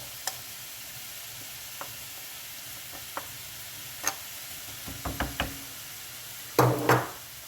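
Leeks go into a hot pan for a mushroom soup: a steady background sizzle with scattered light knocks and taps, then a louder burst of frying as the food lands, close by and without talk.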